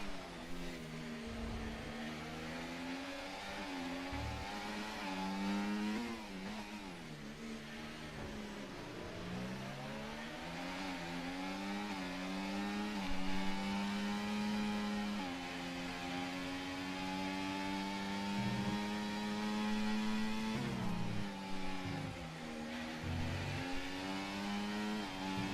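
Formula 1 race cars roar through an esports Texas Grand Prix, high-pitched engines rising and falling as they accelerate and shift, several cars overlapping in a sustained, fairly even whine.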